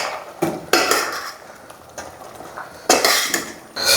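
A lid put onto a pot of beef curry, several sharp metallic clanks and knocks with quieter scraping in between, close by.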